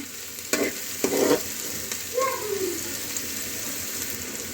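Onions frying in a pan for paneer bhurji made without tomatoes: a continuous sizzle broken by a few spoon scrapes and stirring knocks close by, no talk.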